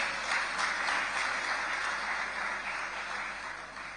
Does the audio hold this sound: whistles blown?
no